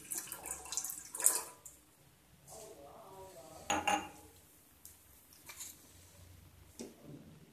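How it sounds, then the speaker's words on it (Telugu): A glass of water poured into a pan on a lit stove, with clinks of glass and metal and splashing water in a quiet kitchen, coming in short separate bursts with soft background noise between them. "స్టవ్ వెలిగించి ప్యాన్ పెట్టి దీంట్లో 1 గ్లాస్ వాటర్ని"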